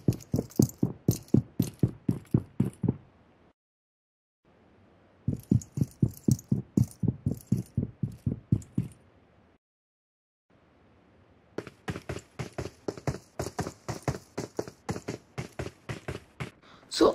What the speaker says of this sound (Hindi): जब बंदा आपके ऊपर वाले फ्लोर पे मूवमेंट करता है उसमें कैसी आवाज़ आती है